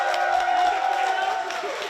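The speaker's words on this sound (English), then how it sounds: "Everybody give Cliff a round of applause." A studio audience at a dating talk show claps and cheers for co-host Cliff Pearson, a short burst of mixed applause and crowd noise with voices blended in.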